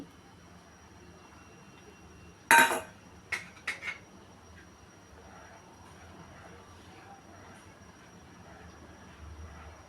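Beaten egg goes into a pot of corn soup with a brief clatter of a utensil clinking against the pot, followed by a quiet stretch.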